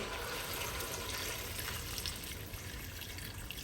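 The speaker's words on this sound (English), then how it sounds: "And we add some water" Water poured into a cooking pot holding aged butter and parsley for Moroccan rfissa: a soft, continuous splashing rush, faint and steady, with no talking.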